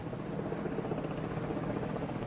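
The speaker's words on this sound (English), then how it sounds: "Hurry, look! Helicopters! 3 bloody choppers!" Several helicopters approach in a radio drama sound effect, a steady, dense rotor and engine drone that holds loud and even throughout with no voices.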